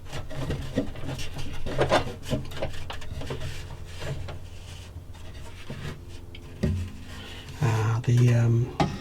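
Sanding a wooden guitar neck by hand gives irregular rubbing strokes and scraping, close and moderately loud, with a few knocks and a short burst of talk near the end.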